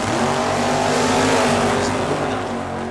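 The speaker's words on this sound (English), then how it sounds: "The 69 fastback Mustang." A 1969 Ford Mustang fastback at a drag race roars past in a loud, sustained rush of engine noise, close and continuous with a rising then fading sweep.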